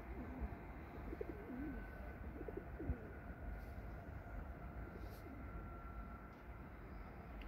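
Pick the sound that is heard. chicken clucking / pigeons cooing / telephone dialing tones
pigeons cooing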